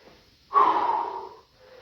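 One loud, rough exhale comes up close during a gym workout, a snort-like heavy breath lasting about a second before quiet returns.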